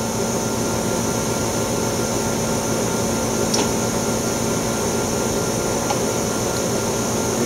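The vacuum pump of an Oxford Plasmalab 800 Plus PECVD system drones steadily during a slow pump-down. Its dense, even mechanical hum carries a few tonal lines, stays loud and unchanging throughout, and has no voices over it.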